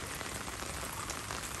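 Rain falls steadily on a surface outdoors, a soft continuous patter that is close and fairly quiet, with no voices.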